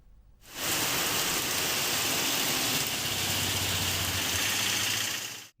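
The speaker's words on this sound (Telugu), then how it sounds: "వాయుగుండం ప్రభావంతో ఉత్తరాంధ్ర జిల్లాల్లో పలుచోట్ల వానలు కురిశాయి" Heavy rain from a deep depression over north coastal Andhra Pradesh pours down in a dense, steady hiss that starts abruptly and holds evenly loud throughout, with a faint low rumble beneath.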